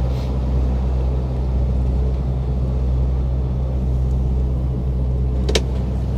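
A heavy truck slows on a French road near a roundabout using only its engine retarder, with no brakes applied: a steady, loud low rumble and drone with constant engine tone throughout, no talking.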